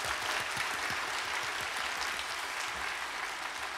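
Audience applause at a live K-pop archive concert, a continuous wash of clapping from a seated crowd, fairly even in level across the whole stretch.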